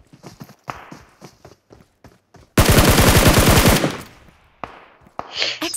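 Rapid automatic gunfire in the video game PUBG Mobile, a loud sustained burst of about a second after scattered single shots and footsteps, with more shots trailing off afterward.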